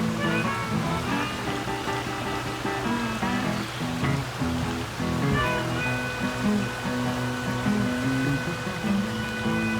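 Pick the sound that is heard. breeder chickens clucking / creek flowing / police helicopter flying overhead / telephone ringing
creek flowing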